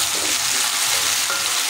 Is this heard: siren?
no